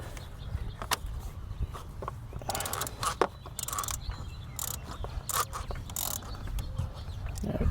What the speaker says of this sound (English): I'm gonna go ahead and get our socket wrench and break it loose.